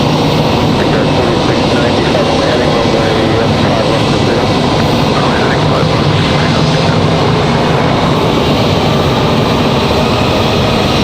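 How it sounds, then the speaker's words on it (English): A JetBlue airliner arriving at Raleigh-Durham International Airport gives a loud, continuous broadband engine roar that holds steady throughout, with no clear voices. "Nice arrival for JetBlue."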